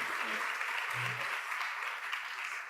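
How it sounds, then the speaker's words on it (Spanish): An audience applauding the speaker Raúl at the end of a conference talk in Guadalajara, a steady dense clapping from a crowd indoors lasting the whole moment, with a brief murmur of voices underneath. "Agradecemos a Raúl con un aplauso."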